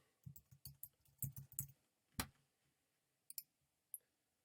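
Mouse clicks on the Noteflight website come in quick clusters of sharp, close taps, then a few isolated single clicks, with quiet pauses between.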